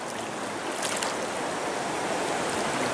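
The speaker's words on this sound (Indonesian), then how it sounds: "Tapi cukup deras Ki ya." A swift, fairly deep river in Air Haji, Pesisir Selatan, rushes past in a continuous, loud, broadband roar of flowing water, close by and steady throughout.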